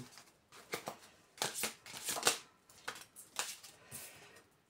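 A playing card is drawn from a deck and turned over, giving a series of soft, close paper slides and flicks in quick irregular bursts.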